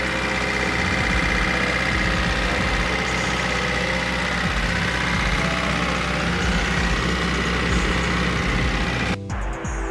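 Honda Civic engine idling after a valve cover gasket replacement, a steady low rumble with a faint rhythmic knock, close and constant until a brief cut near the end.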